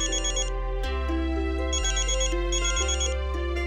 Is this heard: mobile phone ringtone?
yes